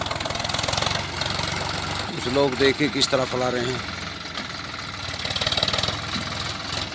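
A tractor engine chugs steadily in the background while someone speaks over it, the motor's low throb continuing throughout.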